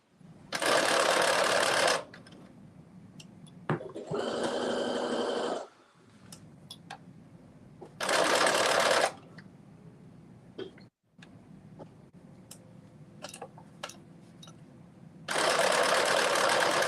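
A domestic sewing machine stitching ruffles onto a caftan runs in several short whirring bursts, each a couple of seconds long, separated by pauses with faint handling noises.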